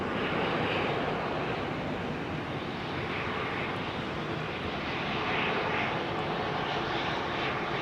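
Airbus A318 with CFM engines arriving at Heathrow, a steady, fairly loud broadband jet roar with a slight swell partway through and no talking.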